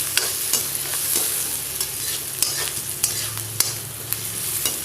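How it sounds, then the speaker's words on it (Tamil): Two onions stirred in a frying pan for a sinhara gravy: brisk scraping strokes with soft sizzling underneath and a few sharper clacks of the spatula, close and clear, no talking. "அந்த 2 வெங்காயத்தையும் இதில் நம்ம சேர்த்துடுறோம்."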